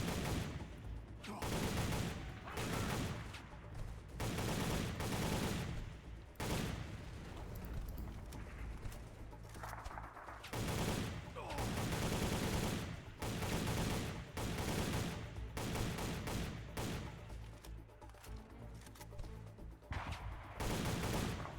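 Sustained gunfire from multiple weapons in a Soldier of Fortune: Payback firefight, bursts of automatic fire and single shots stacking up loudly and continuously, with some sounding close and others faint in the mix.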